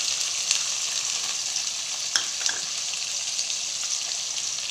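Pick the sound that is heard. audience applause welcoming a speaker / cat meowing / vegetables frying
vegetables frying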